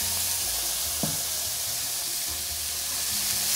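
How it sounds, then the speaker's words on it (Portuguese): Garlic and chopped onions sauté in hot oil in a pan, giving a loud, continuous sizzle with a brief stirring knock near the start. "Deixa refogar esse alho por aproximadamente 1 minutinho. Vou acrescentar 2 cebolas picadas."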